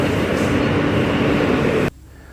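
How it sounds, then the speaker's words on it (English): AirTrain JFK, the airport rail shuttle, gives a loud, steady rumbling roar of a train in motion that cuts off abruptly near the end, leaving a quieter hum. "We then boarded the AirTrain from the airport to the train station."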